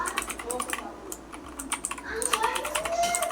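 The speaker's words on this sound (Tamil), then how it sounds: "நான் சும்மா டைப் பண்ணுறேன் அதோட சவுண்டு மட்டும் பாருங்களேன்" Someone types rapidly on an Ant Esports MK3400 PRO V3 mechanical keyboard, a close, loud stream of clacky key presses with no talk.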